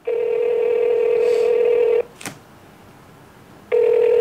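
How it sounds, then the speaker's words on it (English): A phone call being placed: a loud, steady ringback tone sounds for about two seconds, a short click and a quiet gap follow, then the tone starts again, close and clear, with no talk. "I'm calling my dad."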